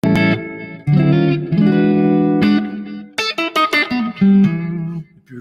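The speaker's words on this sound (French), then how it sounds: "j'ai mis une petite reverb pour le son clair, un petit délai, c'est ce que je mets en général." Clean electric guitar through a Boss amp with light reverb and a short delay, sustained chords and single notes ringing out with echo tails, played alone and fairly loud.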